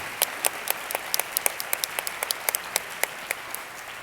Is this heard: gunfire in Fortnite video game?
no